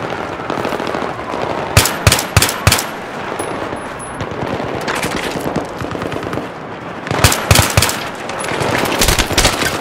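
Automatic gunfire from the Battlefield 3 campaign crackles in sharp, loud bursts of rapid shots, with a steady rattle between the heavier volleys.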